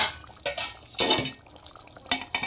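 A lid set over a pot of dhaba-style chicken curry, with several close metallic clanks and scrapes of metal on metal, a louder clatter midway and another near the end.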